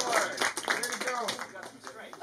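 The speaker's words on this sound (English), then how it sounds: "Everybody, clap for Mr. Kai." Audience clapping at a martial arts school award show, a ragged burst of handclaps running steadily throughout while a voice talks over it.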